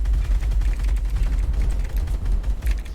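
Gunfire in a competitive online shooter match, dense rapid bursts of shots layered over heavy low booms throughout, loud and continuous with no clear pauses.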